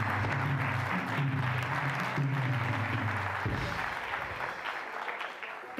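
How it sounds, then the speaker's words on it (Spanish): Church congregation applauding for several seconds, a dense broad clatter of hands that gradually thins toward the end, with a hint of low voices underneath. "Dale un fuerte aplauso al Señor"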